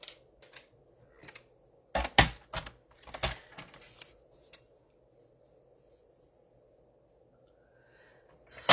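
Designer series paper for a card being cut with a paper trimmer, a cluster of quick, sharp slicing and sliding strokes in the middle, then quiet with faint background hum.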